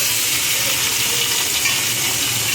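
Chicken pieces frying in a kadai, a steady close sizzle with faint stirring running throughout, no voices.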